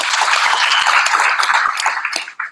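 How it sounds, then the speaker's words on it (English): A room full of seminar attendees applauds, a dense, sustained wash of many hands clapping at once, fairly loud and close, tapering off near the end. "can you give yourself a round of applause?"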